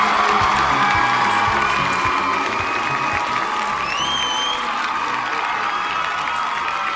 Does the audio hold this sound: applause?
yes